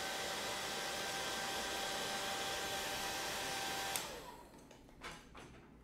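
A hair dryer blows on oil paint, a loud steady whooshing roar with a faint whine that cuts off abruptly partway through, leaving quiet handling noises and a soft thump.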